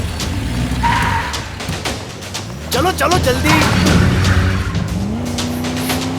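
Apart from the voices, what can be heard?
car driven fast, tires skidding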